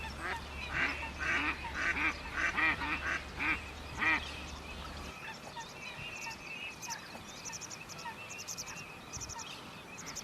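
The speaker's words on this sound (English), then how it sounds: "One of these is the mallard, a common autumn migrant and winter visitor" Mallard ducks quack in a quick, busy run, fairly close, then thin out into scattered distant calls over a soft outdoor background in a Cyprus wetland.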